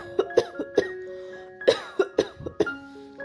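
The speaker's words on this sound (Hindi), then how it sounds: "उसका खाना अटक जाता है और वो खांसने लगता है।" A person coughs repeatedly in a burst of sharp, harsh coughs, close and fairly loud, with brief gaps between fits.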